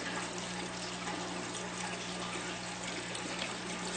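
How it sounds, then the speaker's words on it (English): Water trickling steadily from a drip irrigation line into an NFT hydroponic tube, a continuous close splashing hiss with a low steady pump hum underneath, no voices. "some drip irrigation line on it, which lets the water flow into the tubes"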